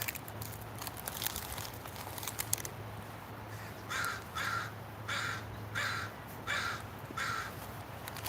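Park crows give a run of separate, evenly spaced caws, five or six in a row, against a windy outdoor background, after a few seconds of crinkly rustling.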